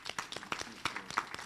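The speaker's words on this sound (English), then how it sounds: "we must give them a round of applause" Scattered applause from a small town hall meeting crowd, a few sharp, uneven claps close by, faint overall with brief gaps between hand strikes.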